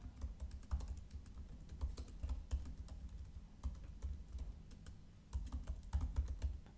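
Rapid, close clicking of a computer keyboard as a command is typed, keystrokes coming in quick bursts with short pauses, quiet and alone.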